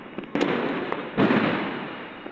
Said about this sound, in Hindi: यहाँ पे चाचा जला रहे हैं चखरी